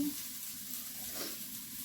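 A little oil heats in a kadai (wok) over a home kitchen fire, giving a soft, continuous sizzling hiss that stays faint and even for a brief moment.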